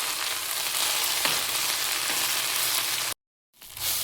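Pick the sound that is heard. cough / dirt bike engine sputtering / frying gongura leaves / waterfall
frying gongura leaves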